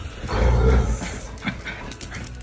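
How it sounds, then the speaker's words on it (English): A large dog gives a short, loud bark or growl up close early on, followed by quieter yips and whimpers inside a home. "does the big one, big dog want to join in?"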